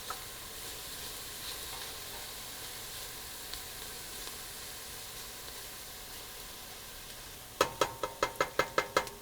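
Garlic and onions with thyme and pineapple sage cooking in a pan for risotto, a soft steady sizzle heard close, ending in a quick run of about seven sharp knocks like a utensil tapping on the pan.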